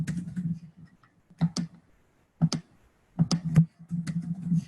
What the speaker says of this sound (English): So I'm going to type in side here